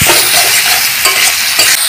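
Tomato, chilli and turmeric spice masala stir-fried in a pan for a Bengali bhola fish curry, a loud steady sizzle with the scrape of stirring running throughout, close up and alone.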